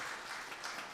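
A church congregation applauds in welcome during a Mother's Day worship service, a dense, steady patter of many hands lasting about a second without a break.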